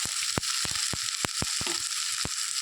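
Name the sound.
stirring fish head and spinach frying in a pan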